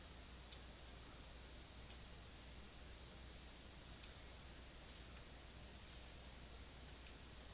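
Computer keyboard key presses land as five faint, sharp clicks spaced a second or two apart over a low steady room hum, with no speech.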